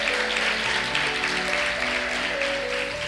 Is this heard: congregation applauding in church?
yes